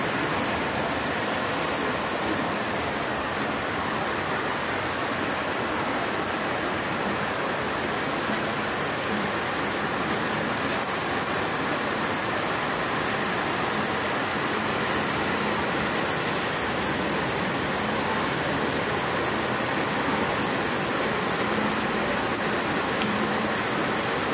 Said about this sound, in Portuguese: muita chuva mesmo.